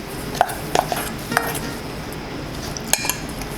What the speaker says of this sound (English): I also like to mash it in because sometimes it's hard to mix it all together